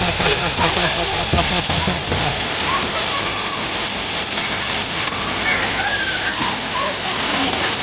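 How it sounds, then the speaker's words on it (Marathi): Water flows and splashes in a steady, broad hiss that runs throughout, with a few louder splashes early on and a voice and other voices talking over it. "इथं पाणी आलं बघ थोडं."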